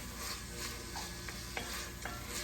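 Garlic and thyme leaves sizzling in a pan as the base for a seafood chowder, a steady close frying hiss with a few light stirring clicks and no talk.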